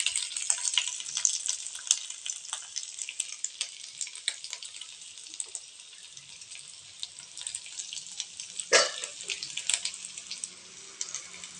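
Chopped ginger sizzles and crackles steadily in a hot pan, with a broad hissing fry and scattered pops running throughout, close and fairly loud, with no talking.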